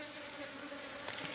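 Dense swarm of honeybees buzzing steadily around a hive being prepared for honey production, a soft continuous drone with no voices.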